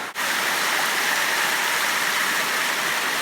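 Small river running through woodland on a hill walk near Ben Lui, a steady close rush of flowing water that holds constant throughout.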